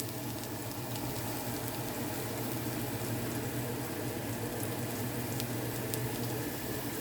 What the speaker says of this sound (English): And I have my oil going. And I'm just gonna add my onions.